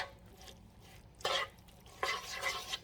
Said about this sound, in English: I'm just going to quickly stir this mix up.